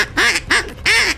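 Ducks quack in three quick, loud nasal bursts close by, answering a duck call during a hunt in Hunter Call of the Wild, with no talking.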